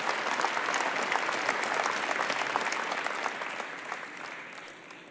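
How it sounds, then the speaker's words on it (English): A large keynote audience at a business conference gives Keith Sturgill a sustained round of applause, dense and even throughout, tapering slightly toward the end. "Let's give him another round of applause."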